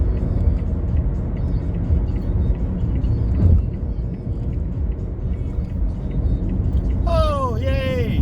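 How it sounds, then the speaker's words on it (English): A lorry rumbles past close by, a low steady roar swelling briefly midway, with birds chirping near the end. "Another lorry."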